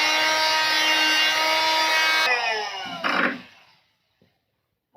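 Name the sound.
sanding wood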